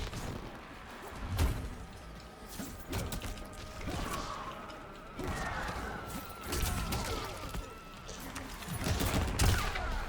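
Rambo's Claymore mine in Mortal Kombat 11 going off amid fighting-game combat: sharp blasts and impact bursts scattered through the round, with clanking hits and mechanical clicks over a constant background of game audio.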